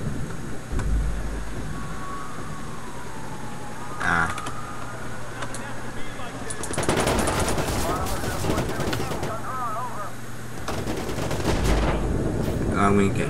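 Video game gunfire from Watch Dogs crackles in rapid bursts and short volleys over a steady background of game sound, with a player talking over it.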